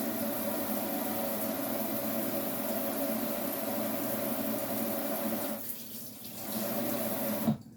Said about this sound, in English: I'm just over here at the sink rinsing these potatoes.